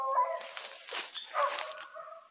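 Duque, a hunting dog tracking an armadillo, bays and howls in the distance, faint drawn-out cries rising and falling over quiet outdoor air.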